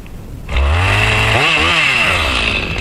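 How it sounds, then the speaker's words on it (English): A Johnson 2045 chainsaw cutting a giant uprooted tree starts after a brief quiet and runs loud and close, a harsh buzzing whine that dips in pitch as the chain bites into the wood. "With the Johnson 2045 chainsaw in hand, the operator steps in like a warrior. The saw screams to life,"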